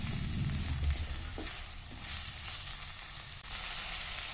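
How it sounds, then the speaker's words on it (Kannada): Cabbage frying in a pan with onions for a vegetable sandwich, a steady close sizzle with a few stirring scrapes, continuous and fairly loud throughout. "ಈಗ ಕ್ಯಾಬೇಜ್ ಗಡ್ಡೆ ಹಾಕ್ತೀನಿ ಇದು ಸ್ವಲ್ಪ ಹುರಿಬೇಕು"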